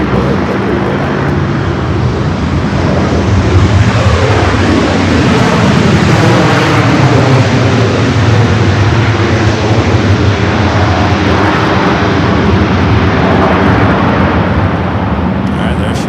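A jet airliner lands on runway 24 right at Los Angeles International Airport with a loud, sustained roar of engines and rushing noise that holds steady across the whole stretch.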